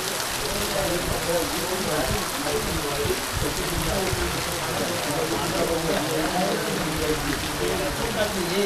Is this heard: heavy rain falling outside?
yes